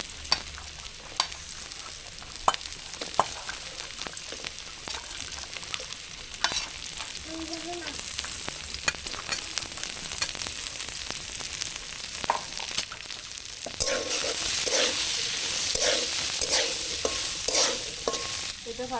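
Garlic frying and being stirred in a pan for a hot green chili bharta, with steady close sizzling and spatula scrapes throughout and a louder burst of frying toward the end; no talking.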